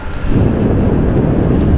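Steady broadband rush of rain and wind noise while cycling along a street bike path in Toulon, continuous and loud throughout with no talking.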